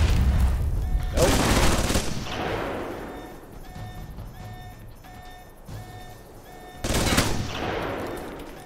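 Gunfire in the video game Alpha Protocol: two loud, broad bursts of shots about six seconds apart, with a quieter stretch of low rumble and faint game ambience between them.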